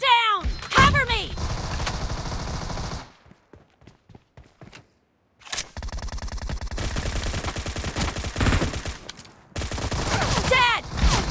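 Suppressed Beryl M762 rifle in a PUBG Mobile team deathmatch fires loud rapid bursts of automatic shots, stops briefly in a quiet gap with scattered faint shots, then opens up again in sustained strings of fire.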